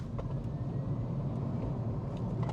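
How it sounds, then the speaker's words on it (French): A 2027 Chevrolet Bolt electric car is driven, heard from inside the cabin as a steady low road and tire rumble with no engine note, constant and fairly quiet. "Nous voici maintenant au volant de la Chevrolet Bolt 2027."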